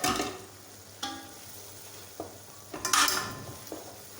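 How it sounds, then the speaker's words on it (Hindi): Jaggery syrup roasting in a pan for sweet jaggery rice, with a few separate scraping stirs and soft bursts of sizzle spaced across a quiet background, close by and fairly faint. "शीरे को जो है मैं भून लेती हूँ"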